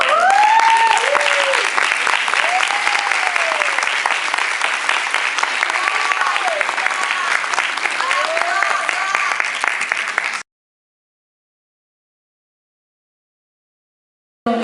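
University audience at a seniors' sustainability lecture giving a standing round of applause in Lloyd's honour, dense, loud clapping with whistle-like vocal cheers for about ten seconds, then abrupt silence.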